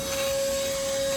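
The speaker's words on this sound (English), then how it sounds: "Vacuum works really good." Cordless ash vacuum powered by a DeWalt 20V battery running steadily, with a constant motor whine and airflow rush close by.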